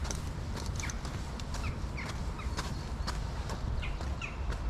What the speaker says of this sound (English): Some birds chirping.